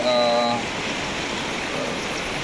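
A jungle river in Aceh flowing over stones along its bank, a steady broad rushing wash of water heard close and constant throughout, with a brief tonal sound at the start.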